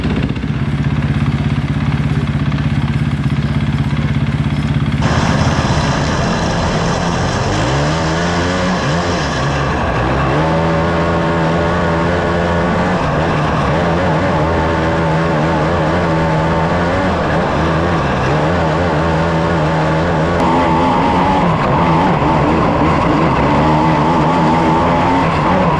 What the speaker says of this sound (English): We're gonna get some engine heat